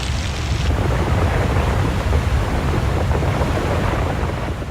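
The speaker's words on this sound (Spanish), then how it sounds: "En un momento, el canal se ve inundado por un río de rocas." Debris flow of rocks rushing down an Alpine channel below Ilhorn, a continuous loud, heavy roar of tumbling rock and churning mass filling the whole stretch without letup.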